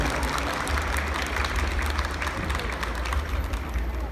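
A crowd claps at the results announcement of a Hmong dance contest, a dull continuous patter of hands over a low rumbling hall hum, steady in level throughout.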